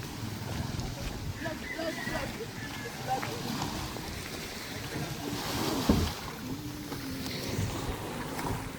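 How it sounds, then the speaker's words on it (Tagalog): Water slaps and washes against a boat hull outdoors with wind rushing, while people talk nearby over the steady sloshing. "Yun ang bangka natin."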